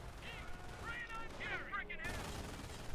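Machine gun fire crackles in Company of Heroes during the Normandy invasion, with bursts of dense, rattling shots that run beneath brief in-game voices and shouts.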